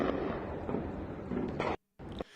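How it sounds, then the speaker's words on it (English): Air defense fire and explosions around Tehran, a dense, continuous rumble of booming blasts and crackling shots at a distance, broken by a brief dropout of silence before more firing resumes. "you could hear air defense fire, but you could also hear some other explosions as well"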